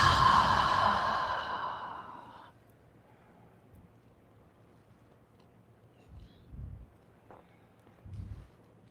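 Deep exhale during a power yoga class, a long, loud breathy rush close to the microphone that fades over about two seconds, followed by quiet room tone and a couple of soft low thumps.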